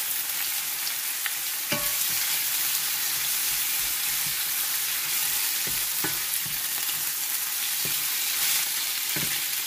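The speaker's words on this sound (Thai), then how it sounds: "กระเทียมเจียวให้หอมก่อนนะคะน้องนี่เนาะแล้วก็ใส่ตับลงไปผัดให้สุกนะคะ" Liver stir-frying in a pan with fried garlic gives a steady, loud sizzle, broken every second or two by short scraping stirs of the spatula and a few clinks against the pan.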